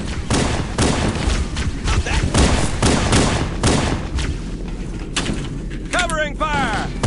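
Heavy sustained gunfire in Halo: Combat Evolved, a dense run of loud overlapping shots and blasts throughout, with a voice shouting over the battle near the end.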